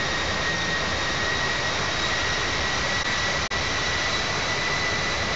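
Jet airliner engines in the Infinite Flight simulator, cruising on a long route from Boston to Lisbon, give a loud, steady broadband roar that holds unbroken except for one momentary dropout.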